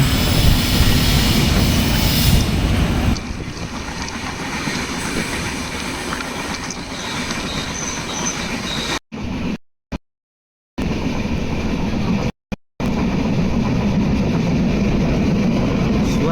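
A steady, loud rumble and rattle of a moving Konkan Railway Janshatabdi train from inside a carriage, running from Kankavli to Dadar, continuous apart from a few brief dropouts.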